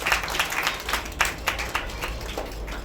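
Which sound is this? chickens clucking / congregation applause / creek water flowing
congregation applause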